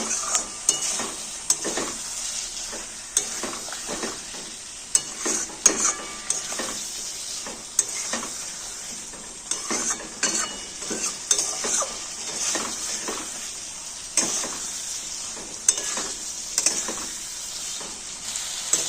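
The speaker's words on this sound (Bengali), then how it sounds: "এবার আমি দিয়ে দেবো কাটা পেঁয়াজ বড় বড়, টমেটো আর কাঁচা লঙ্কা। ভালো করে কষিয়ে নেব।" Chopped onion, tomato and green chilli fry in hot oil for a Bengali prawn and potato curry, with steady sizzling and a spoon repeatedly scraping and stirring against the pan in an irregular rhythm, close and without talk.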